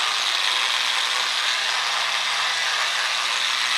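A polisher fitted with a 1500 grit pad runs steadily across a stone countertop, giving a continuous close whirring and rubbing hiss that holds even throughout.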